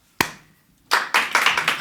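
Hand clapping at a live music show: one sharp clap, a short pause, then a burst of several quick claps from the audience, close and loud.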